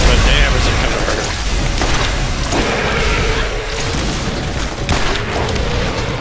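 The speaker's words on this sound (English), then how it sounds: "Oh, oh, rocket in the mouth!" Booming rocket explosions from a class-based shooter video game, dense and continuous, rumbling under rapid gunfire-like cracks with a player talking over the chaotic battle.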